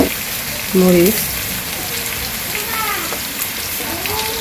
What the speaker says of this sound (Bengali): এখন হলুদ মরিচ লবণ দিয়ে ভালো করে সবজিগুলো কষিয়ে নেই